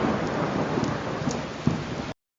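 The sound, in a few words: heavy rain with thunder, sound effect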